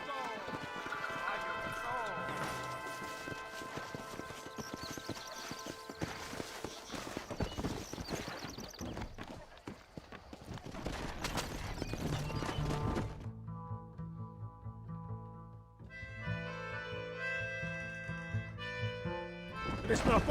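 Rhythmic hoofbeats of horses galloping under layered music in the video game Red Dead Redemption, shifting to a brighter melodic passage partway through.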